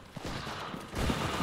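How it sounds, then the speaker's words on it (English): Rapid bursts of Italian submachine gun fire crackle in the Enlisted video game, dense and continuous automatic shots that swell louder toward the end. "I think that's a Italian SMG we're hearing"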